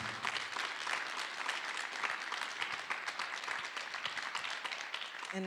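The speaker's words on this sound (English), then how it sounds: "I just want to give one more round of applause for Lawrence and his fabulous book" Applause for author Lawrence Burney and his book at a conversation event comes as a moderately quiet, continuous crackle of many clapping hands, steady from start to finish without talk.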